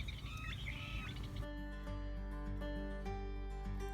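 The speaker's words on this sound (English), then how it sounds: "Red-winged blackbirds, great-tailed grackles, American coots, mallards, and many other desert birds can be found here." Red-winged blackbirds, great-tailed grackles and other desert birds call steadily at a reed-fringed pond in Beatty, Nevada, with layered chirps and whistles over a constant background hum.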